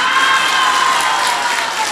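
A crowd claps and shouts together in a steady, dense wash of applause and cheering voices, loud and continuous without pauses.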